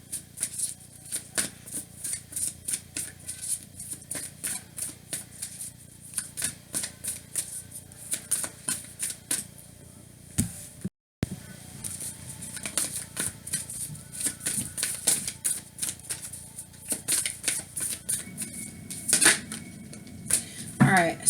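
Tarot cards being shuffled by hand indoors, a long run of crisp riffling clicks and flutters in quick irregular bursts, with a brief pause midway, close up and fairly clear.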